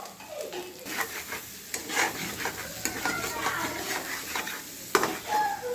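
Beef tripe frying in a pot while being stirred often: a continuous sizzle under repeated scraping and knocking of a spoon against the pot, close by and fairly quiet, with no talking.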